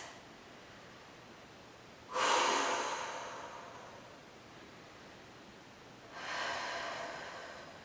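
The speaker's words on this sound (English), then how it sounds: "Breathing here. 2 more breaths." Two heavy exhalations during a pilates exercise, each a sharp breathy rush that fades over a few seconds, close and fairly quiet in an otherwise hushed room.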